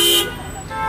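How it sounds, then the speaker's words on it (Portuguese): A loud car horn blares at the very start, then fades into a steady hum of big-city traffic noise, with a faint voice in the background. "Buzinas e mais buzinas."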